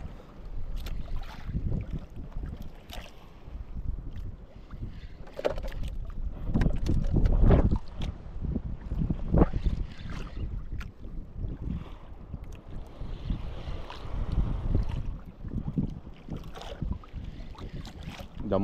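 A small bangka boat pitches through big sea waves, with wind buffeting the microphone and water sloshing and slapping against the hull in irregular surges, loud gusts rising and fading with no talk.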